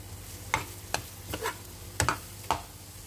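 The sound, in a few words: crab sticks frying in garlic butter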